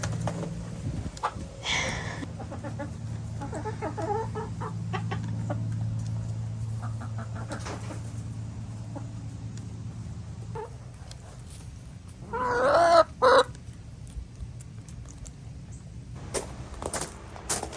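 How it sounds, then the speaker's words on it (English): Hens cluck and murmur quietly in the background over a low steady hum near a greenhouse, with a louder squawk partway through. "So I'm gonna give it to the chickens."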